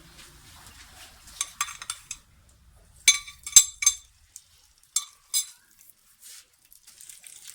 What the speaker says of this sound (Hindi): अब हम इसमें डालेंगे आलू। आलू मैंने मैश करके रखे हुए थे।